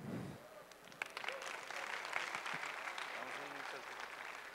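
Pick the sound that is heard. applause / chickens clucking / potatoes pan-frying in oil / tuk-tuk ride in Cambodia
applause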